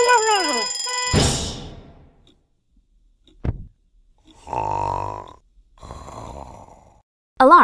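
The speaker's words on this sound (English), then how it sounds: "An alarm is a loud sound that tells you to do something, like move over for a fire truck or wake up to go to school." Alarm sound effect from a children's alphabet learning game app, with short loud bursts separated by silent gaps and a brief tonal jingle at the start.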